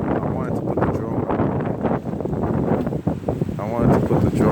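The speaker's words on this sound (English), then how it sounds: "it's pretty windy" Strong wind gusts roar and buffet the microphone during a New York City snowstorm, a continuous loud rushing under a person talking throughout.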